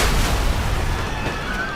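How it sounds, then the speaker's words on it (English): Dramatized reenactment of a loud explosion aboard an aircraft fleeing missile range, a dense, sustained roar of noise filling the whole clip rather than a single sharp bang, with no talk over it. "there was this loud explosion, one quick bang."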